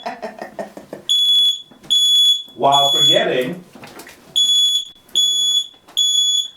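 A smoke detector or fire alarm beeps loudly in high-pitched bursts of roughly half a second, repeating about five times with short gaps, while a person talks between and over the tones.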